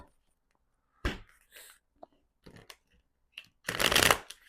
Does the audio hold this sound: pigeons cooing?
no